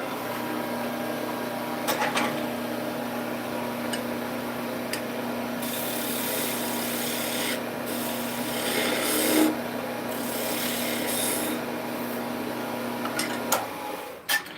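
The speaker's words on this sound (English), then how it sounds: "I will switch to just using sandpaper" Sandpaper rubs on a wooden workpiece in close, rough, rasping bursts during the second half. A steady low electrical hum runs underneath the whole time.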